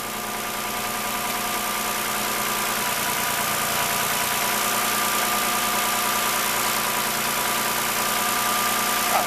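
A Toyota engine idles steadily just after its first start, a continuous close mechanical drone with an even, slightly rough vibration holding for several seconds with no voices.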